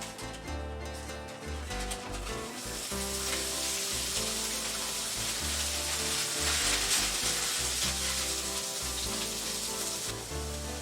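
Bite-sized chicken pieces sizzle loudly and steadily in a hot pan for a sweet stir fry. The crackling frying swells slightly midway and continues without a break.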